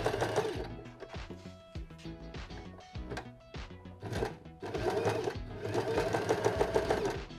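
A domestic sewing machine stitches felt, running in bursts of rapid rhythmic needle chatter with brief pauses and clicks between runs, close and clear with no voices.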